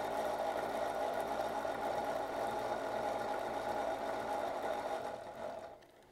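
Fishing line winding onto a reel spool, a steady close mechanical whir with a fine buzzing hum that holds evenly for about five seconds before tapering off.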